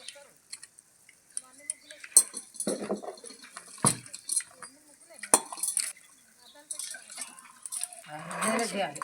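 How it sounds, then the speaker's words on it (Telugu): Prawns being washed in a metal vessel: scattered clinks and taps of metal, light splashes and rattles near the end, with people talking intermittently in between. "రొయ్యలు కడుగుతానా మంచిగా శుభ్రంగా"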